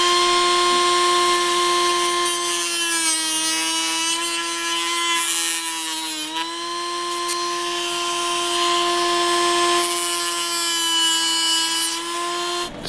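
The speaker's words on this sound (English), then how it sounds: "time to remove the excess material around here" Rotary tool, normally a Dremel, trimming excess material off a servo mount: a loud, sustained high-pitched motor whine that dips slightly in pitch as it bites in, close and continuous with no talking.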